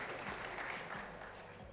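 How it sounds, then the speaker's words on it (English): Audience applause for a speaker at an African investment summit session, steady dense clapping filling the room at moderate level throughout. "Please, a round of applause for Paul."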